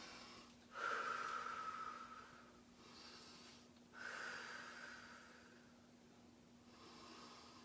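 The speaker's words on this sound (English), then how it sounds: "just breathing through your nose" Deep breathing through the nose during a yoga sun salutation practice, two or three slow, soft inhale-exhale cycles, close and quiet with a faint steady hum underneath and no talk.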